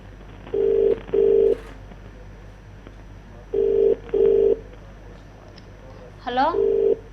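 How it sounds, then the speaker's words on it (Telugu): An unanswered phone call rings back in steady paired tone bursts, repeating three times with pauses between. A brief voice-like sound overlaps the last pair. "రింగ్ అవుతుంది కానీ లిఫ్ట్ చేయట్లేదు తను."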